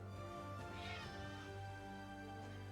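A pet cat meows faintly and briefly against a steady hum of video game music.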